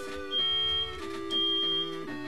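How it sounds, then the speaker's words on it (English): A smoke-alarm style electronic beep sounds in Mario Golf on the N64, with steady tones and two distinct beeps that stand out loudly over the game's background music. "Oh no, the fire alarm!"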